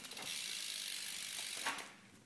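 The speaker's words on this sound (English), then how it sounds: "If you guys want to hear the hub sound, I'll just do that real quick." Rear hub freewheel ratchet of a 2011 Specialized P.20 bike spinning, giving a steady, fairly quiet buzzing click run throughout with a faint knock near the end.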